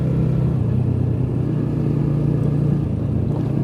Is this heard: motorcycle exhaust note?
yes